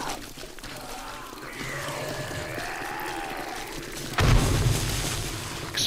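Explosives going off during a horde night in the zombie survival game 7 Days to Die, a heavy booming blast near the end rising over a continuous layer of gunfire and game noise.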